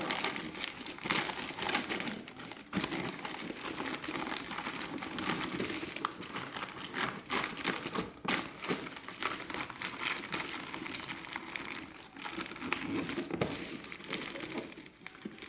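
Wrapping paper crinkling and rustling steadily as it is folded and tucked around a gift box, close and continuous with small crackles, no voices.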